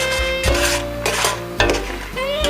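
A pot of mulled wine sugar syrup with nutmeg and vanilla simmers on the stove with soft bubbling and sizzling, broken by a few clinks and scrapes of stirring against the pan.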